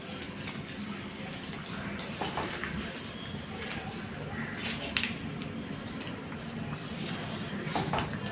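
Chicken roast stirred in a pan after milk and four green chillies go in, a steady wet sizzle and slosh with occasional scrapes of the utensil against the pan.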